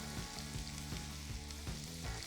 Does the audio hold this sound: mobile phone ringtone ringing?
no